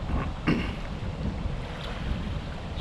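Wind gusts strongly over a lake at a carp fishery, a continuous roar with buffeting on the microphone and one sharper thump early on, loud and without voices.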